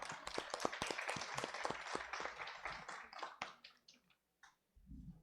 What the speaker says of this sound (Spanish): Démosle un aplauso también, por favor.